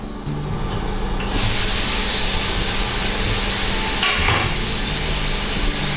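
Japanese hamburger steaks (hambagu) fry under a lid in a pan, giving a steady close sizzle and hiss with a few brief clatters, no one talking.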